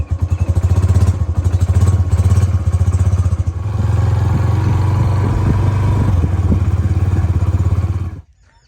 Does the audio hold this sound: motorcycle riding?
yes